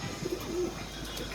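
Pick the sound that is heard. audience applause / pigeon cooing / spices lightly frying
pigeon cooing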